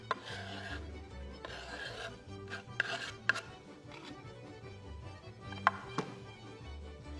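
Knife chopping onion on a board in a home kitchen preparing potatoes with ribs, with a few sharp taps scattered among softer scraping and rubbing sounds, close and fairly quiet.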